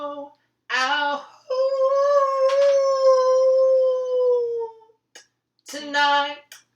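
A person imitates a wolf howl with a voice: a short yelp, then a long sustained tone that slides gently downward and fades, followed after a pause by another brief howling burst, close and loud.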